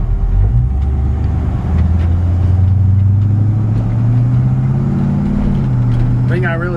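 A 1953 GMC 5-window pickup truck drives along, its engine holding a steady, loud hum that rises gradually in pitch as it pulls, with a brief higher whine near the end.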